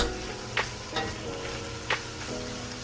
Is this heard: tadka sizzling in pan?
yes